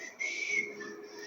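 A preacher in a Methodist Wesleyan church attempts a whistle, producing a breathy, airy tone with a brief wavering pitch lasting under a second, close and alone.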